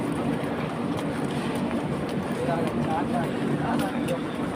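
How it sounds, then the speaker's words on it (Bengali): Train moving along a rail line near Howrah, a steady low rumble with faint rhythmic rattling that continues throughout, while people talk over it. "এই ট্রেনটা আবার কোথায় যাচ্ছে?"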